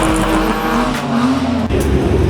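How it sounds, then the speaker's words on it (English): A truck drifting sideways at a nighttime car meet, its engine roaring loud and steady with tire noise, and a crowd around it. "The truck getting sideways."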